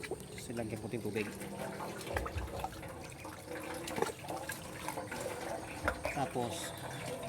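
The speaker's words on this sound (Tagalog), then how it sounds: "Silagyan ko tubig" Water is poured and splashes into a container to mix a garden spray for eggplant, a faint liquid trickle heard under ongoing speech.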